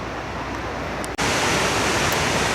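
A mountain waterfall spills into a small pond at Whitney Portal, its loud, steady rushing roar broken only by a momentary cut partway through.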